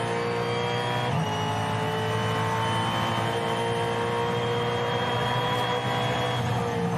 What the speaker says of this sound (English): Listen how gently he is applying that throttle coming out of there in second gear out of the final corner.